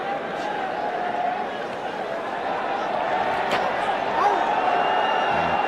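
Crowd at the 1996 Cricket World Cup final between Sri Lanka and Australia, a steady, distant roar of cheering and chatter that swells slightly toward the end, with a commentator talking over it.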